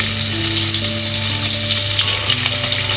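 Aair fish fry in hot oil: a close, loud, continuous sizzle with fine crackling throughout and no talking.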